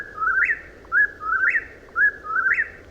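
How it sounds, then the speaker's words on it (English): Whippoorwill calling its repeated three-part whistled song, three clear rising phrases in steady rhythm, fairly close and loud over quiet background. "There is one bird that is considered to be a true hibernator, the whippoorwill."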